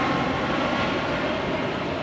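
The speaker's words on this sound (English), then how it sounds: "there goes another 5th runway arrival" An airplane arriving on the fifth runway at Atlanta's airport gives a steady, broad roar that holds evenly throughout, heard from a nearby park.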